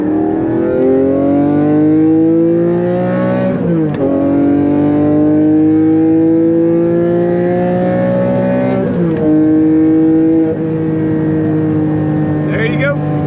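A Porsche 718 Cayman GT4 sports car accelerating hard from second into third gear, its loud flat engine climbing steadily in pitch with sharp gear-change dips near four and nine seconds, then pulling on again.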